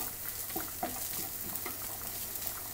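Sardine masala with curry leaves stirred in a hot pan for a Kerala-style mathi dish, a steady close sizzle with soft scraping strokes of the spoon running through it.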